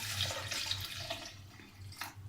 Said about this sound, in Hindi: थोड़ा सा इसमें पानी जाएगा